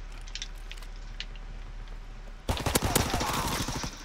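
Gunfire in the World War II shooter Call of Duty WWII, a quiet stretch with faint distant shots, then a close burst of rapid sharp reports in the final second and a half.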